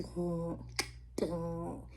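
Two crisp finger snaps land about half a second apart, sharp and close, set against a steady, sustained tonal backing.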